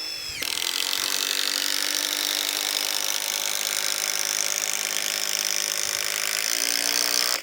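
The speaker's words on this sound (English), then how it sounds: "And get them 250 screws in there, which will tie them corners together." A power tool drives 250 mm screws into timber corners while a garden room base is being built. The loud, steady whirring grinds on without a break for about seven seconds and stops sharply at the end.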